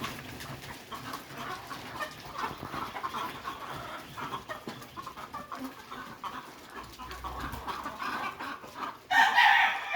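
Chickens cluck and stir continuously in a farm shed, a dense, moderately close backdrop of hen calls with no talking, growing louder and busier in the last second.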